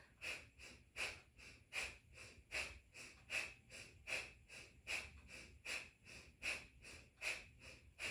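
Slow, steady breathing during a guided exercise, about a dozen soft, evenly spaced breath cycles, close and quiet, with no talking.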